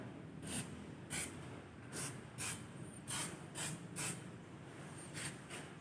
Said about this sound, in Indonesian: Setelah itu kita semprot dengan menggunakan brake fluid